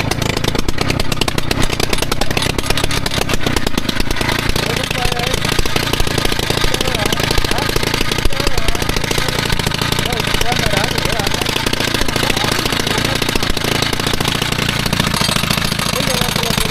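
A rock drill bores into stone at a quarry, its loud, steady hammering roar running unbroken throughout while people talk over it.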